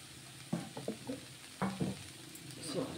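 A spoon stirs potato curry with spices and fresh coriander in a pan, giving a few soft scrapes and clinks over a faint steady sizzle.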